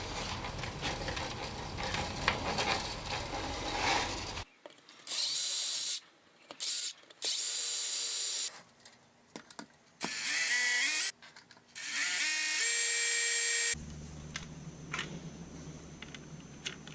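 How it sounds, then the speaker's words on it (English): Short bursts of a power drill cut into a bass guitar neck with a 5/32 drill bit, stopping and starting in an uneven rhythm. Steadier handling noise sits before and after the bursts. "you want to make sure that you tape it off so you don't go all the way through the neck when you're drilling."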